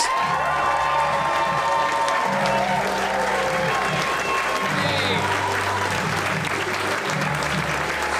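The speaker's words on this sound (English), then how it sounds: "Put your hands together for Zoltan Kaszas." A stand-up comedy crowd greets a comedian with loud, sustained clapping and cheering, with scattered whoops and shouts mixed in throughout.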